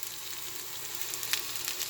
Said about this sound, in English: Watch it sizzle.